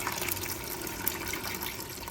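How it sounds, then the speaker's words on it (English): Chicken stock poured from a box into a soup pot over high heat, a steady liquid gush and splash running continuously and close, with no talking. "pour in 1 box of the stock"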